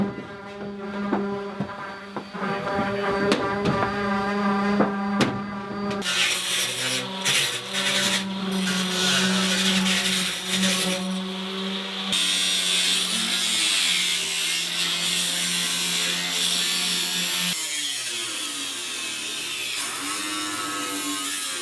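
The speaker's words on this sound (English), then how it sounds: "we're going to get going on taking these interior side panels off" Interior side panels being pried and pulled off inside a short school bus during demolition, with a continuous run of scraping, rattling metal and grinding tool noise that shifts in character several times and carries no speech.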